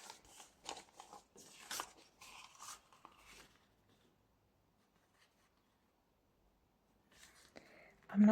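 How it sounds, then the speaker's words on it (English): Scissors cut paper signatures to size against a template for a shabby chic vintage junk journal made from envelopes, giving a run of crisp close snips over the first few seconds, then a quiet pause and a final rustle. "So now I can use this template to cut all my signatures to size."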